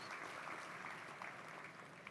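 A church congregation applauds for Jesus during a sermon, a continuous faint patter of clapping hands that fills the room.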